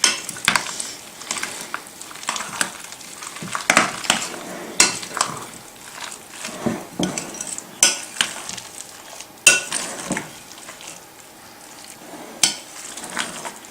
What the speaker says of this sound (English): Get all that mixed together. Nice creamy blend.